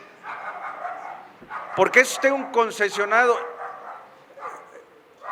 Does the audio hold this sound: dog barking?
yes